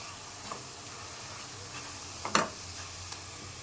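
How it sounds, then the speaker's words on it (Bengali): Sweet coconut mixture for narkel naru being stirred in a pan, a soft steady scrape and faint sizzle with one sharper clink of the spoon midway, close and fairly quiet. "এইভাবে নারকেল নাড়ু অনেক সময় নাড়তে হবে।"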